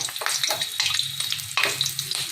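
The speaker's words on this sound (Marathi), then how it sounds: "गरम तेलामध्ये मी तीन ते चार मिरच्या घालून घेते तळण्यासाठी" Three or four slit green chillies fry in hot oil after chana dal vadas, giving a loud, close, continuous crackling sizzle with bursts of spattering.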